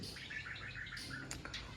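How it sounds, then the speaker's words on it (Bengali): A pet budgerigar gives a quick run of short, bright chirps and tweets, soft and fairly close, with no voices. "এই বাজরিগর পাখি মূলত অস্ট্রেলিয়া দেশের একটি পাখি"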